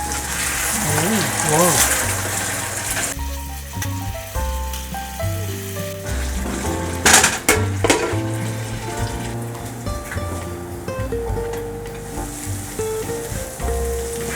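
Chicken sukka, a dry Mangalorean chicken dish, sizzling and frying in a pan while being stirred, with a steady crackle running throughout and a louder burst in the middle, under music and a brief exclamation.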